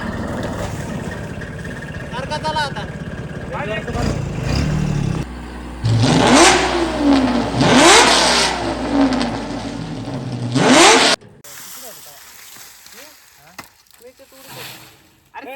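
A tractor engine revs and whirs loudly for several seconds, rising and falling in pitch, then cuts off abruptly, leaving quieter background noise.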